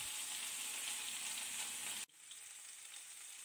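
Amra (hog plums) frying in a hot pan for a homemade Bengali chutney: a steady, loud broadband sizzle that cuts off abruptly about two-thirds through, then settles into a quieter, softer crackle.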